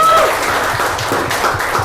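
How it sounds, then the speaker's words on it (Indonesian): A small group claps briefly for a coach during a casual football talk-show session, a short burst of close, lively applause with a few distinct hand claps. "Tepuk tangan dulu buat Coach Justin."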